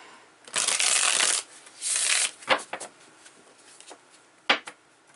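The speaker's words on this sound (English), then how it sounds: "I'm just shuffling here, Pisces." Tarot cards are shuffled in two quick riffling bursts, followed by a few soft taps and slides as they are squared up.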